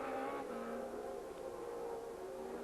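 A 1989 Formula One Benetton car's engine idles steadily after a stall on track, a faint continuous hum heard from a distance with no talk over it.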